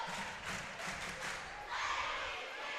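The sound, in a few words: basketball crowd cheering as a mascot fires it up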